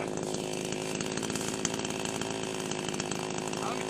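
Dereal 62cc gas-powered chainsaw cutting through hard wild cherry wood, a loud, steady two-stroke engine snarl under load with a rapid pulsing rhythm, close by.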